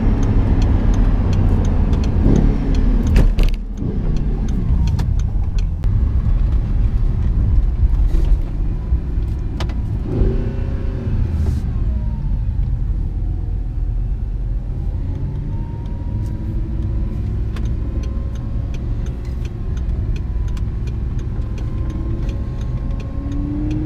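An Audi R8 idling on a freezing day while it warms up, a deep steady engine rumble throughout with occasional creaks and clicks, and a faint higher drone settling in toward the end.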